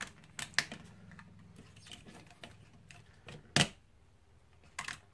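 Ratchet joints on the wings of a Playmates Ultimate Voltron 14-inch electronic figure clicking as they are moved, giving several small, close, separate clicks with quiet gaps and one louder snap.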